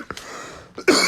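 A single sharp cough near the start, then a second louder cough or throat clearing toward the end, close by with quiet room noise between.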